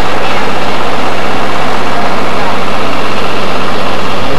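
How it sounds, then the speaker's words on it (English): A John Deere tractor engine runs steadily at a lakeside home in Starke on the Fourth of July in 1988, giving a low, continuous rumble under people talking. "And there we have Uncle Bruce with DJ driving the John Deere tractor."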